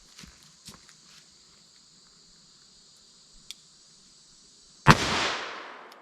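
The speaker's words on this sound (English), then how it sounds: "let's see how close I get to 900 feet per second through my 4-inch barrel Smith & Wesson 686" A Smith & Wesson 686 revolver with a 4-inch barrel fires a single loud, sharp .38 Special shot outdoors that echoes off, after quiet background with crickets and a few faint footsteps.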